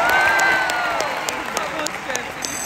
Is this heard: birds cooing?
no